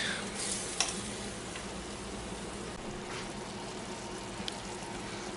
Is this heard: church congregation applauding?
no